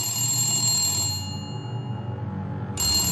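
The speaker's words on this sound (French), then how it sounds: "Et un téléphone?" A telephone rings in a Minecraft film, a loud sustained electronic ring that pauses briefly and then resumes, alone without speech.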